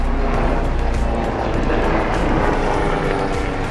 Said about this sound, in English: The emergency helicopter just flew overhead.